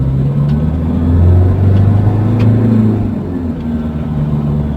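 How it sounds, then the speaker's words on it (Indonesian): A remapped Toyota Fortuner's engine drones steadily under acceleration, a loud, close, continuous rumble with a rising and falling tone and no talk. "kalau udah di remap tuh suara mesin dia menjadi lebih galak ya"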